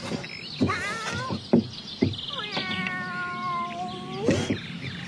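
A cat meows repeatedly, several drawn-out, tonal meows close up with short gaps between them, one a long wavering cry, in a German children's audio play.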